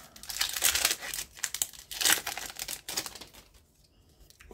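A Magic: The Gathering Modern Horizons 2 booster pack wrapper is torn open and crinkled in several loud, close bursts of foil crackling, fading to quieter rustles at the end.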